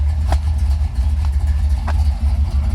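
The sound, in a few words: car engine running, supposedly a 340 horsepower motor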